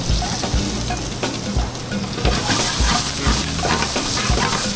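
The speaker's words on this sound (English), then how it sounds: "Saute that up a little bit" Red onions and chopped garlic sauté in a hot pan with a loud, continuous sizzle up close, punctuated by rhythmic stirring scrapes and knocks, with no one talking.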